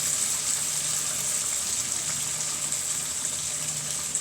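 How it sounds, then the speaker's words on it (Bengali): Vinegar poured into a pan of half-ripe mango pickle, a steady close hiss of liquid flowing without a break for several seconds. "2 টেবিল চামচ ভিনেগার দিয়ে দিব।"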